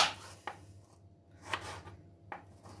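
A knife slices potatoes lengthwise into thin strips on a board, giving three sharp, separate cuts spaced about a second apart, close and fairly faint over a quiet background hum.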